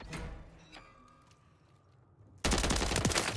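Gunfire from a Call of Duty MW3 match, with faint shots and clicks early on, then a loud, dense burst of rapid fire hitting the player up close that fills the last second.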